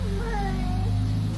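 A house cat meows in one drawn-out, wavering call with rising and falling pitch, close by and fairly loud over a steady low household hum.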